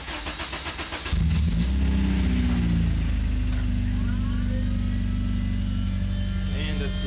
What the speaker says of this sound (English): And this is engine crank.